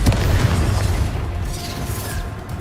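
A Bombarda blasting spell in Hogwarts Legacy: a loud, sustained booming explosion with a deep rumbling low end, fading slowly over a couple of seconds.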